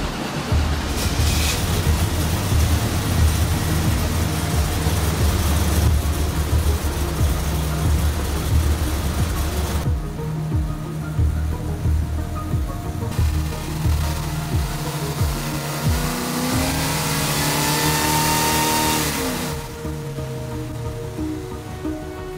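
A supercharged big block Ford Crown runs on a dyno, its engine a loud, steady roar that holds for most of the stretch with shifts in pitch as throttle changes, then drops off sharply near the end.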